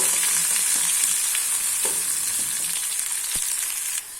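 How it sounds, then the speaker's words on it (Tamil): Sliced onions and curry leaves sizzle in hot oil with mustard seeds in a pan, a steady bright frying hiss with light stirring scrapes, close and continuous with no voices. "1 இனுக்கு கருவேப்பிலை, 2 மீடியம் சைஸ் வெங்காயம், இப்போ இதை நல்லா வதக்கி விட்டுக்கலாம்."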